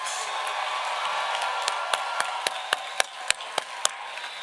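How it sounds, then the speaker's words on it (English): Applause from a large audience honoring graduates at a university spring commencement ceremony, a broad wash of many hands clapping with sharper individual claps standing out over the crowd. "please join with me as we honor all these graduates with a well-deserved round of applause"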